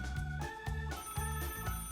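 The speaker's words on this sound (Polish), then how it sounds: "Telefon gdzieś musi tu być." A telephone rings in a Roblox game with a bright, repeated bell-like ring in a steady pattern of bursts and short gaps, clear and close with no talking.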